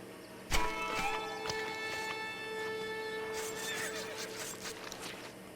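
Horses whinny and neigh in Red Dead Redemption, a sharp cry at the start followed by sustained tonal neighing and snorting from several animals, fairly close and moderately loud, with no talking.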